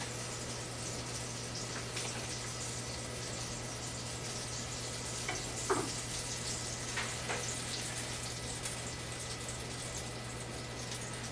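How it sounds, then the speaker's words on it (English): Butter sizzling in a pan while a grilled cheese sandwich cooks, a soft steady broadband hiss with a low hum underneath and a few faint clinks, no talking. "So just gonna put some butter in the pan."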